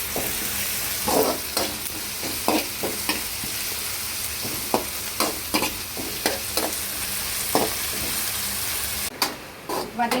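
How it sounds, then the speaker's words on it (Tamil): Onion, tomato and ginger-garlic paste sauté in a pan with a steady low sizzle, broken by repeated scraping clinks of a spoon stirring through the mixture, close and fairly loud. "தக்காளி வெங்காயம் இஞ்சி பூண்டு பேஸ்ட் எல்லாம் சேர்த்து நல்லா வதங்கிட்டு இருக்கு"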